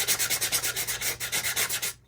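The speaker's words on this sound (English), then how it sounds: "I've got a little 180 grit sandpaper" Sandpaper of 180 grit on a foam pad rubs back and forth in a quick, even rhythm of about a dozen close, scratchy strokes, stopping abruptly at the end.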